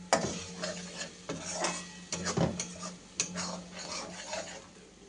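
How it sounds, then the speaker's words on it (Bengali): Masala spices sautéing in oil in a pan, a utensil scraping and clanking against the metal in irregular knocks over a soft sizzle, close up with no voices. "মশলাটাকে ভালো করে কষে নেই।"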